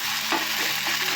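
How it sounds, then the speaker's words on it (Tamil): Fried cauliflower for Gobi Manchurian is tossed in a hot pan. A short burst of scraping stir strokes sits over a constant, bright sizzle. "சேர்த்துட்டு இதை நல்லா ஒரு தடவை பெரட்டி விடணுங்க."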